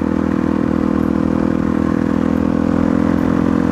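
A Suzuki DR 650 dirt bike engine runs steadily and loudly close by, holding a throaty, even thump for a few seconds with no talk.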